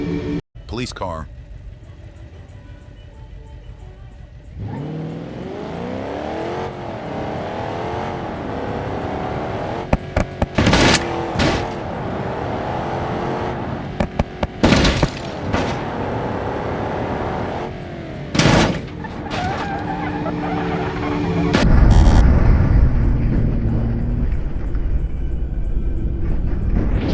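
In the BeamNG.drive driving game, a police car's engine hums and revs for most of the stretch, with sharp bangs of crashes or impacts here and there and a heavier rumble near the end; people talk over it.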